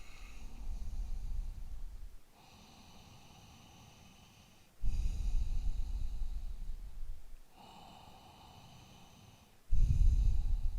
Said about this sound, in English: Breathing a little bit deeper.